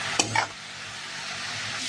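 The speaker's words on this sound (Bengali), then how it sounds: "দিয়ে ভালো করে ভেজে নেবো।" Shredded cabbage rubbed with salt and turmeric frying in hot oil in a wok with green chillies, with a steady soft sizzle and a couple of quick stirring clinks near the start.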